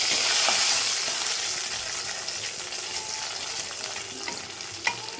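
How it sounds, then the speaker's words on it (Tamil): Onions sautéing in a pan while a bitter gourd dish is prepared, giving a steady close frying sizzle with a stirring scrape and a sharp clink near the end. "வெங்காயமும் நல்லா வதங்கி வந்துடுச்சு"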